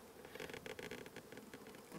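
Honey bees buzzing at a hive, a dense, steady swarm drone close by with fluttering pulses, no voices.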